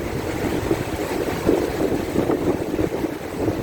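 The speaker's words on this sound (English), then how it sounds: "Wow, it's windy here." Strong wind buffets a moving narrowboat as it heads straight into the gusts, a steady broadband roar with rumbling low-end microphone buffeting that swells and eases without pause.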